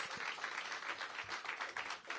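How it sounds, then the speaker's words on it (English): Outdoor crowd applauding the Ballou Marching Band at a campus welcome event, a steady wash of clapping held at moderate distance for a couple of seconds. "Give them another round of applause."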